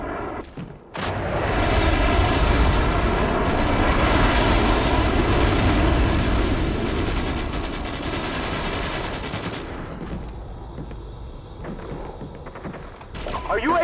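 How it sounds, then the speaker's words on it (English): A Call of Duty 4 airstrike on the Wii hits as a loud, sustained barrage of booming blasts and rapid gunfire, rolling on for several seconds before easing, with a game voice briefly audible. "Friendly airstrike on the way."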